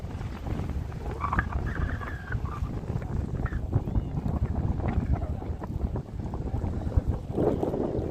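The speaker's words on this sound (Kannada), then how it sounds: "ಗಾಳಿ ಸೌಂಡ್ ಕೇಳಿಸ್ತಾ ಇರ್ಬೋದು ನಿಮಗೆ." Strong, gusty wind buffets the microphone at a lakeside by Dandiganahalli Dam, a continuous low roar with rustling flutters and no voices.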